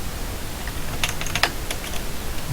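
Computer keyboard keys pressed during 3D modeling work in ZBrush: a few light, quick clicks in a small cluster, faint over steady background hiss.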